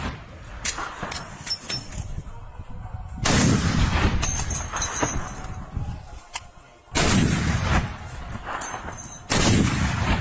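Anti-tank gun fire against Leopard tanks in a war zone: three loud, booming blasts a few seconds apart, each with a long rumbling tail, between quieter stretches holding faint clinks and distant noise.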